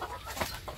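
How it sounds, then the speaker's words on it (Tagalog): Chickens at a rural hiding place clucking, several soft clucks and brief calls mixed with background noise, close by and moderately loud. "May mga manok dito si Ate Edna Vlogs, oh."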